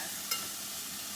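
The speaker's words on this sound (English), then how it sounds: "now I'm going to add some rice, but I am going to add a little bit of sesame oil at the bottom" Rice frying in sesame oil in a stainless steel pan gives a steady, soft broadband sizzle with one brief sharp stir or scrape near the start, close and without talk.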